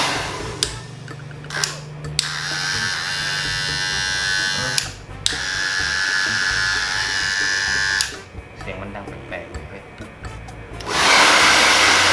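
An electric hair clipper, just cleaned, buzzes on and off in several bursts with an odd, loud sound, close by, with brief pauses and handling noise between runs.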